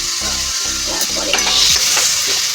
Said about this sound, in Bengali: পেঁয়াজ আর আদা বেগুন করে রেখেছি, এটা দিয়ে একটু নেড়ে নিয়ে